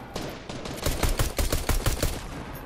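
Rapid gunfire cracks out in Fortnite as a player shoots down an NPC, a dense string of loud, close shots in quick succession with no voices over it.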